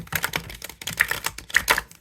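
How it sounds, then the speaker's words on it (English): Bowed tarot cards are riffle shuffled, making rapid crisp flutters in two or three quick bursts, close and clear with no talking. "If I riffle shuffle with the bow,"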